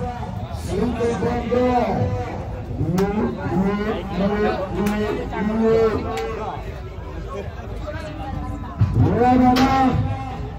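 Cows moo repeatedly, several drawn-out calls one after another, with people chattering in the background and a louder moo near the end, at a giant cattle contest in Indonesia.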